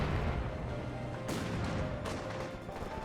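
Mortar fire from an allied mortar half-track in Company of Heroes 2, two sharp blasts standing out over a dense, steady bed of distant battlefield rumble and scattered gunfire.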